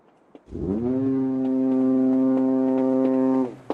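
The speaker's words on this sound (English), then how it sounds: "From a ship only, in the harbour. Foghorn." A ship's foghorn in a harbour sounds one long, steady, deep blast. It is loud and sustained for about three seconds, then cuts off.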